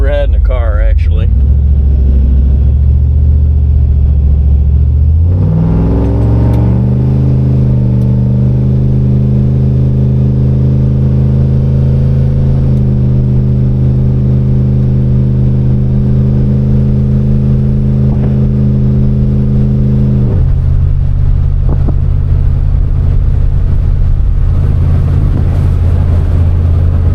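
Car engine pulling in third gear with the torque converter locked, a loud steady low drone rising in pitch after a shift, sustained for a long stretch before easing off, with someone talking over it.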